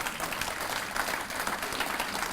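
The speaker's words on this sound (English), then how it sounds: "Yes, you can clap, Judy." Audience clapping at a public education event in East Texas, a steady wash of many hands at moderate level with no voices standing out, continuing evenly for a couple of seconds.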